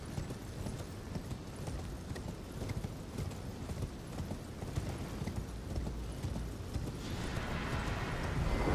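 Horse galloping in Elden Ring, a steady rapid clip-clop of hooves that runs throughout, fairly loud against a dense game soundscape that swells toward the end.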